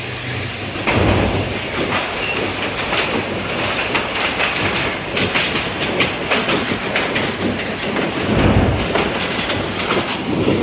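The Green Line passenger train rolls across the Ravi bridge on the Khanewal route. It makes a loud, close, continuous rumble with rhythmic clickety-clack of wheels over rail joints and occasional metallic squeals.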